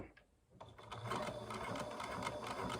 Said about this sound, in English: can you just do a few stitches of backwards and forwards